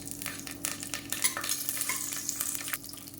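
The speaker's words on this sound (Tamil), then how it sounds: "சோம்பு கல்பாசி பட்டை கிராம்பு ஏலக்காய் ஸ்டார் அனைஸ் எல்லாத்தையுமே சேர்த்துக்கலாம்" Whole fennel, kalpasi, cinnamon, cloves, cardamom, star anise and curry leaves fry in hot oil, a close, steady sizzle with crackles and a spoon stirring through the pan, no talk.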